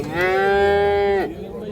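An ox at the Bandikhan Thursday livestock market in Surkhandarya lets out one loud, drawn-out low lasting about a second, close by, ending abruptly over a faint background murmur.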